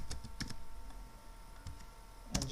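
Keys clack on a computer keyboard in a few short clusters of clicks, with a busier burst of typing near the end; close and fairly quiet, and no one talks.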